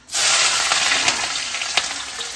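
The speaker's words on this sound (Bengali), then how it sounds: "দেখো আমার তেল গরম হয়ে গেছে এখন পেঁয়াজটা দিয়ে দিই" Onion dropped into hot oil sizzles loudly and steadily, a dense close-up frying hiss that starts abruptly and holds with small crackling pops throughout.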